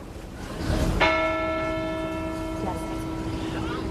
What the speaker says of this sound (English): Other churches rang bells as a sign of support across the city.